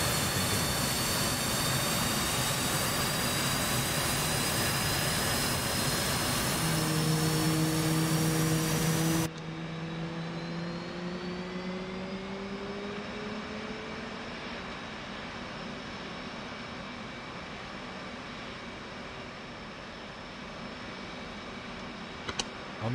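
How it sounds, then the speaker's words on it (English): F/A-18 jet engine starting up in the DCS flight simulator, a loud whooshing turbine roar with a rising whine that drops in level partway through and settles into a steady hum with high tonal whine, no talk. "This will add fuel to the engine and start the ignition."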